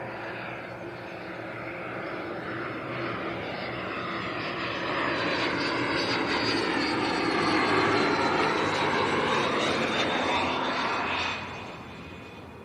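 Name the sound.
Cessna Citation jet aircraft passing at airport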